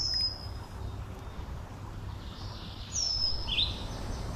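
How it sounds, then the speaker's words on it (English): Birds singing and chirping on a spring riverbank, a few faint high whistled calls and a brief trill drifting over steady low outdoor background noise. "All the birds are mating, singing and chirping."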